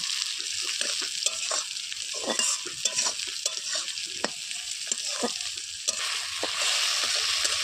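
Tomato pieces fry in a pan over a wood-fired stove, a steady close sizzle broken by repeated scraping and tapping as a utensil stirs them at an uneven rhythm.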